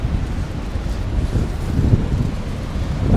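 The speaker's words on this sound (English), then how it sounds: "Really windy today. It's really windy." Strong wind buffets the microphone on an empty, windswept beach in Spain, a steady low roar with gusts swelling and fading throughout, no voices.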